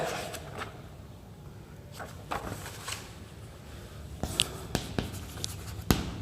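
Chalk or pen writing by hand during a trigonometry math lecture, with scratchy strokes and sharp taps that grow more frequent toward the end, close and without speech.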